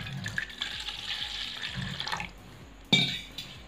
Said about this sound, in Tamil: தண்ணி கொஞ்சம் ஊற்றிடலாம்.